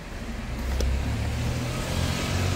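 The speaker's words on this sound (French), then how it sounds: "il y a des voitures qui passent" Cars passing on a street, a steady low engine and tire rumble that swells slightly as traffic moves by, fairly close and continuous.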